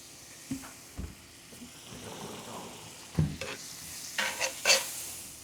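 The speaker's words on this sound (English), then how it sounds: "we're going to start with just a little bit of butter in that pan. Make sure that pan is piping hot." Butter sizzling in a piping hot pan before steaks are laid in, a soft steady fry with several louder bursts of crackle and spatter, close and alone.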